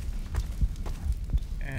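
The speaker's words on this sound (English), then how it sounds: "maybe you can hear the heartbeat" A heartbeat in a Half-Life 2 mod thumps in a slow, steady rhythm, several low muffled beats over a faint hum, fairly quiet throughout.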